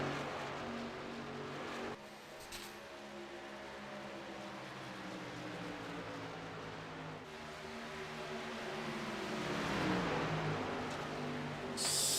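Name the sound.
race cars driving at Texas speedway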